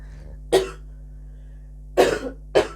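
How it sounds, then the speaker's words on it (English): Three short, sharp coughs up close over a steady low hum, one alone and then a quick pair near the end. "Cough, cough."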